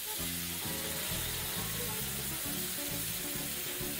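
Prawns and stock hitting a hot pan of peppers, a steady close sizzle and fry running through the whole stretch with low rhythmic pulses beneath, no talking.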